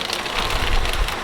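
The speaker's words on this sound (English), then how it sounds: "That beautiful sound is the sound of rain. It's really coming down." Heavy rain pours down outside in a dense, steady wash of close hiss and patter, loud and unbroken, with no voices.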